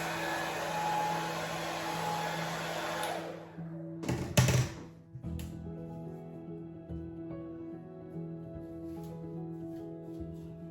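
A hair dryer on low heat blow-drying natural 4c hair gives a steady, close whoosh for about three seconds, then cuts off with a few soft knocks and handling sounds before quiet.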